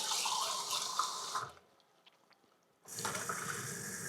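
Water pours in a steady splashing stream while a sweet recipe is made, stopping abruptly for about a second of near silence before gushing again at the same strength.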